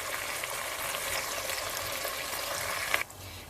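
Biryani paste frying for lamb biryani in a hot pan, a steady dense sizzle that holds evenly, then drops off abruptly near the end, with no talking.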